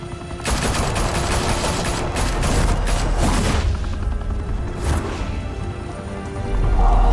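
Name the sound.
gunfire in video game Batman: The Telltale Series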